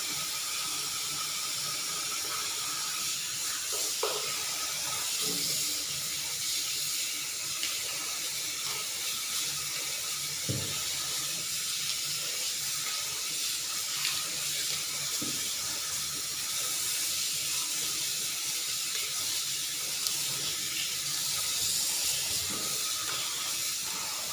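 Mackerel washed in salted water at a kitchen sink, a steady faint hiss of running water with occasional soft knocks and splashes and no talking.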